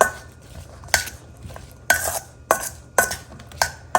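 Cucumber salad tossed with sweetener and sesame oil, a utensil clinking against a bowl in several sharp, irregular knocks over a quiet background.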